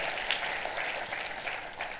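A church congregation claps during a sermon, broad steady applause heard from a slight distance, fairly soft overall with a few sharper claps standing out in the wash.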